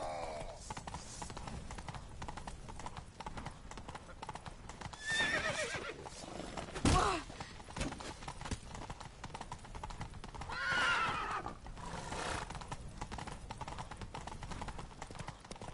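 In a PS4 video game, hooves clip-clop steadily throughout while a horse whinnies loudly a few times, with bursts of shrill neighing standing out over the rhythmic gallop.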